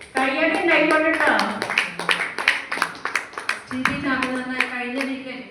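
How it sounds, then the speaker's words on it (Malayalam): An audience claps at a certificate award ceremony, a burst of brisk, irregular hand claps that runs alongside a person talking loudly over it. "കയ്യടി ഉണ്ടായിക്കോട്ടോ."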